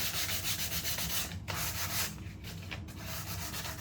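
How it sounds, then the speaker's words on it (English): Steady, continuous scratchy rubbing of 120-grit sandpaper scuff-sanding a thrift-store umbrella stand, close and fairly loud, with brief pauses in the strokes. "using a 120 sanding paper, I scuff sanded the entire piece"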